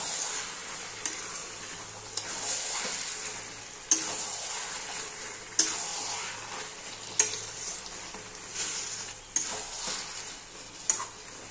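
Bengali mutton kosha sizzles in a pan as a spatula stirs and scrapes it in slow, repeated strokes, each scrape a sharp close clack over a soft continuous frying hiss, with no voices.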